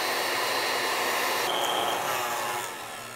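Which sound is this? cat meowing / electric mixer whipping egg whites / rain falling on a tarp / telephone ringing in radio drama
electric mixer whipping egg whites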